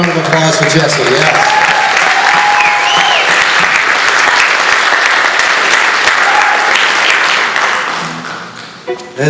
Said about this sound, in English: A round of applause for Jessie, yeah.